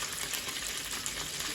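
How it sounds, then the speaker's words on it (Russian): Frozen chebureki sizzle and spatter in hot frying oil, a steady dense crackle with small pops throughout, close and fairly loud, no voices. "будем теперь смотреть, какие это, как жарятся замороженные"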